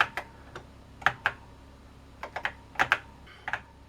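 Computer keyboard keys pressed in scattered clusters of sharp clicks, some single and some in quick pairs, close and clear with no voices.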